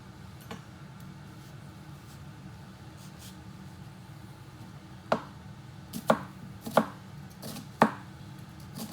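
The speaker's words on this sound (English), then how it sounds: "we're gonna start with dicing up a red onion" A knife dices a red onion on a cutting board, starting with faint light taps and then several sharp, distinct chops spaced about a second apart, close and clear with no talk.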